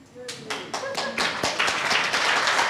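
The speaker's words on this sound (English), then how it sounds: "Can you all stand up and clap your hands?" A conference audience rises to stand and clap. A few scattered hand claps quickly build into fuller applause, with a voice briefly audible at the start.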